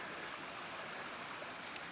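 A river running high in a wooded park, a steady broadband rush of flowing water heard from nearby, constant and moderately quiet, with a single faint tick partway through.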